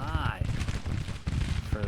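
Musket volleys in a Grand Tactician Civil War battle, a dense crackle of distant rifle fire rolling continuously over short bursts, with someone talking over it.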